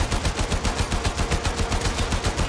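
Rapid automatic gunfire from the Warframe shooter game, a steady fast stream of evenly spaced loud shots with no pauses and no talking.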